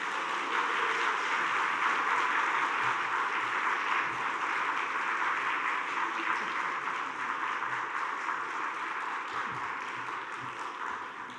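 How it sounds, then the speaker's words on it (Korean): Congregation in a Korean church applauds to welcome a visiting pastor, a sustained wash of many hands clapping that holds steady then slowly tapers, no voices over it. "이렇게 박수까지 해주시니까 몸둘 바를 모르겠습니다"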